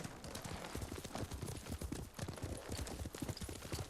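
Horse hooves clip-clop steadily in the video game Ghost of Tsushima, a busy run of close, rhythmic hoofbeats over dense background game ambience, with no speech over them.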